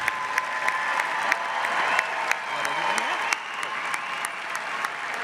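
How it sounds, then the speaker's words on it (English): Full applause from a commencement crowd for Grand Valley State graduates, with steady clapping, distinct sharp claps and a murmur of voices underneath. "And let's give another round of applause for all of our graduates."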